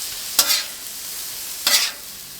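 Beef on a hot breakfast griddle, a steady hiss of sizzling broken by two sharp bursts of louder sizzle as the meat is moved or pressed, close and without talk.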